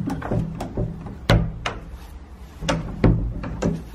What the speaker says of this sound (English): someone freaking locked the door